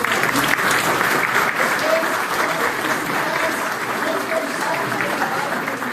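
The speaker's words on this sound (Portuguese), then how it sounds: "uma grande salva de palmas" A big round of applause from an audience honoring club presidents at an exchange program certification event, dense continuous clapping that holds steady and loud throughout, with faint voices beneath.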